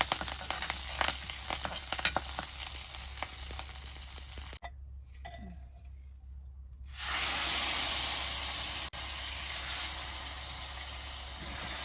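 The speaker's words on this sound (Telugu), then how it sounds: "ఇప్పుడు జీలకర్ర, ఎండుమిర్చి, కరివేపాకు వేసి తాలింపు పెట్టుకుంటున్నాను" Cumin seeds, dried red chillies and curry leaves crackle and sizzle in hot oil for a Telugu-style tempering over cucumber dal in a clay pot, loud steady frying with a brief quiet gap midway, no talking.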